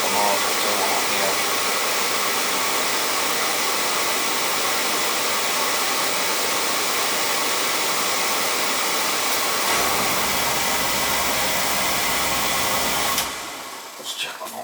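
An older home oil burner roars steadily as a loud broadband rush of air and flame, holding for most of the span before cutting off abruptly near the end and leaving faint clatter.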